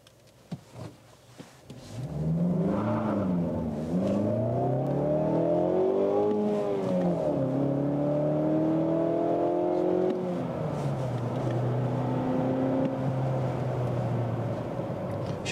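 From inside a 2013 Mazda 6 with a 2.0-litre 165 hp engine, revving up through several gears to 90 km/h, pitch climbing and dropping with each shift, then settling into a steady cruising hum.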